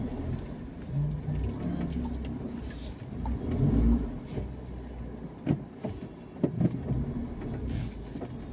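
Car driving along a rough road toward a river ghat on the Ganga, a low continuous engine rumble with occasional bumps and rattles, no speech.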